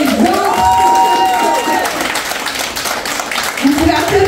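Audience at a Paris seminar event applauding and cheering, with a voice and excited shouts over the clapping, which fades somewhat midway before rising again with more cries near the end.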